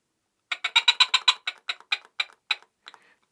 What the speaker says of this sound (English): this is a hunting whistle I got somewhere